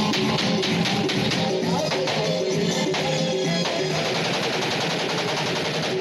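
Celebratory aerial gunfire at a wedding rattles in loud, rapid automatic bursts, dense repeated shots filling the whole stretch with a harsh, echoing crackle.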